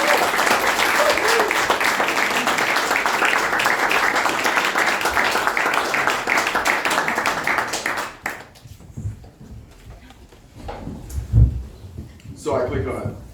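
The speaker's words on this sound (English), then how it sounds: "could we have a round of applause for Alex Burnett?" An audience at a celebration event with literary readings applauds a reader being welcomed, loud dense clapping for about eight seconds that stops abruptly, followed by scattered knocks and shuffling sounds nearby.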